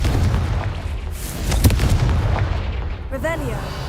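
Booming magical blasts of the Confringo fire spell in Hogwarts Legacy, loud and close over a rumbling battle din, followed by a brief swooping effect at the end.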